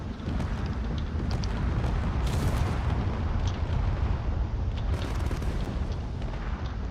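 Missile and cannon fire pound a corvette in a space combat video game: a dense, continuous roar of blasts and explosions with sharp impacts cutting through, loud and unbroken throughout.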